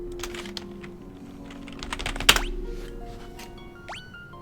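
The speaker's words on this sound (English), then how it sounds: "Can I type this?" Keys tapping on a computer keyboard in a quiet room, a loose cluster of soft clicks with one sharper, louder key strike near the middle and a faint rising tone toward the end.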